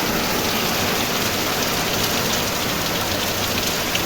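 Steady, heavy rain pours down continuously, a dense hiss with no pauses, close and fairly loud.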